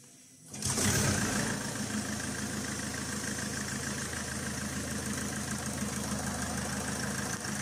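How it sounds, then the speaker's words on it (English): A Peugeot 2.0 HDI diesel engine cranks and catches after EGR valve and cooler replacement, then settles into a steady, slightly clattery idle, close and continuous with no talk. "the engine started perfectly fine"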